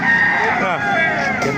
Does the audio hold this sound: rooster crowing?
yes